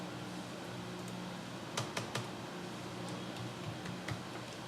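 Code is typed on a computer keyboard in a few scattered, sharp key clicks over a steady hiss of background noise, with nobody speaking.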